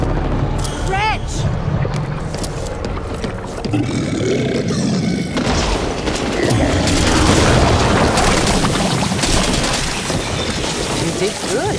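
A Wretch monster in Back 4 Blood lets out deep booming roars amid dense, chaotic combat noise that stays loud throughout, with voices calling out over it.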